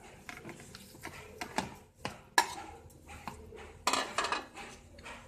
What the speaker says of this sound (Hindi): तमाम सामान को हम मिक्स कर लेते हैं।